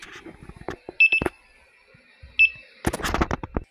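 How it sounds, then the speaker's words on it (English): A few short electronic beeps from a Simplex alarm panel, with quiet speech around them and a brief burst of talking near the end. "And I should just acknowledge that beep real quick."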